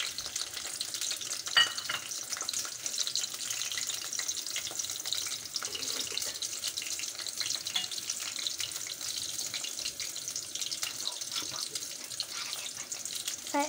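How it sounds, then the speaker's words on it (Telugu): Onion and chilli fry in hot oil for a paneer curry, giving a steady, close sizzling hiss throughout with occasional scrapes of a spoon stirring the pan. "దాని తర్వాత దీంట్లో ఉల్లిపాయ ఇంకా మిరపకాయ వేయాలి."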